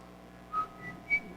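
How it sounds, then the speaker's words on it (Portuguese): A person softly whistles a church hymn, a few short clear notes over quiet room hiss, faint and brief. "assobiando o hino da igreja"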